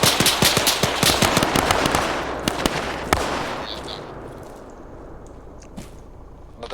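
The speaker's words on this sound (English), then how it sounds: "we're taking sniper fire" Rapid bursts of gunfire in Arma 3 crack loudly at first, then thin out into scattered shots that fade into a quieter, distant rumble.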